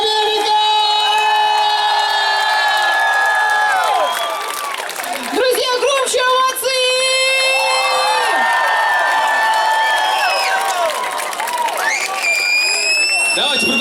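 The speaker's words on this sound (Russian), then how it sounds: "Продолжайте, Луганск, продолжайте хлопать!" A live concert audience in Luhansk claps and cheers loudly and continuously, with whoops and shouts in a large crowd while a voice calls out over the applause.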